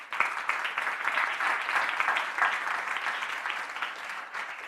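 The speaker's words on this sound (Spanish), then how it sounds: "Un aplauso para ellos, por favor." Audience applause for the deputies at a fashion industry event, a dense wash of clapping from a crowd lasting several seconds, loud and steady before tapering slightly at the end.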